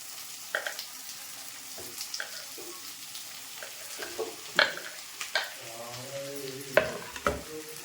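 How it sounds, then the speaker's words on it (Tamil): Chopped ridge gourd sizzles in a hot pan while a spoon stirs it, making soft steady frying hiss broken by close scraping and clinking strokes at an irregular rhythm. "காய் போட்டு நல்லா வதக்கி விட்டு"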